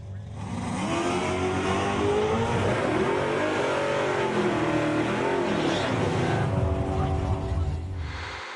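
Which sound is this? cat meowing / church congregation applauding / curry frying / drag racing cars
drag racing cars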